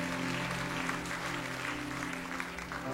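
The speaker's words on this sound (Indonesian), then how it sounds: "Kemudian berikan tepuk tangan bagi nama Tuhan" Church congregation applauding during a sermon, a steady dense wash of clapping that holds at an even level throughout, with a low sustained musical hum underneath.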